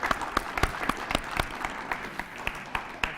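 Spectators applaud the winning team at a high school academic quiz competition, a thin, scattered round of clapping with distinct individual claps, moderately quiet.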